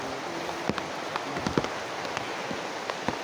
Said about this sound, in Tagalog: Lakasan ng ulan ito.